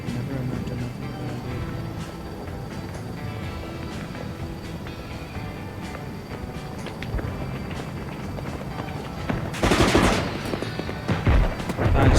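Rapid gunfire and rocket blasts from the video game Antistasi, a dense stream of shots running throughout, with a louder burst of explosions near the end.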